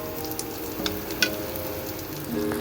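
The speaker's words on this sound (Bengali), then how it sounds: "এবার আমি ঘিটা দিয়ে একটু ভালো করে পাক দিয়ে নেবো এটা।" Ghee-coated motichur laddu mixture sizzles gently in a pan, with a faint steady fry and a few soft scraping clicks as it is stirred; no talking.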